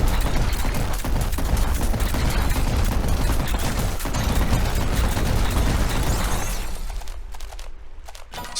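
Relentless rapid gunfire and explosive blasts from a shotgun in the indie video game RICE, dense and loud for most of the stretch before thinning out near the end.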